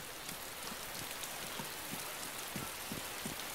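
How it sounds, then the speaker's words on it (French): Rain in the survival video game DayZ falls as a steady, soft hiss with faint patters of drops throughout, alone without talk. "Il pleut, il pleut plus."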